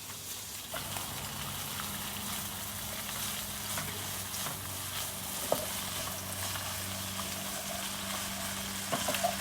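Noodles stir-fried in a pan for seafood pad Thai give a continuous, even sizzle with a few faint utensil clicks, fairly quiet and steady throughout.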